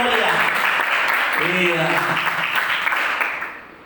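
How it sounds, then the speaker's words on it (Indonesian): Church congregation clapping in praise during a sermon, a dense steady wash of applause with a voice rising briefly over it before fading out. "Tepuk tangan untuk Tuhan"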